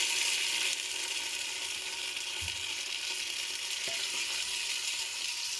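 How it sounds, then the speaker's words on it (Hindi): Chopped onions frying in hot oil for dal, a steady broad sizzle running throughout with a couple of faint clicks and knocks partway through. "अब हम इसमें डालेंगे प्याज।"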